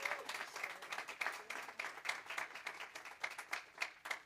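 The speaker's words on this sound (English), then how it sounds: "Let's give them a round of applause." Applause from a church congregation at a Sunday service, honoring a newly installed Board of Trustees: steady, moderately faint clapping with sharp individual claps scattered through the whole stretch, no talking.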